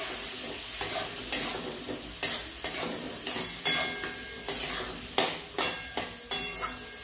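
Potatoes frying in oil with chilli powder for a Marathi potato bhaji, a steady sizzle broken by rhythmic spoon strokes knocking and scraping against the pan roughly every half second, close and clear.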